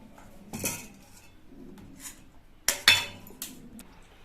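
A knife cuts through a homemade biscuit cake on a plate, giving a few short, close clinks and scrapes of metal against the dish with quiet pauses between them.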